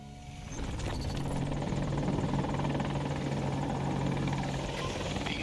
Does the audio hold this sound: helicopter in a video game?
yes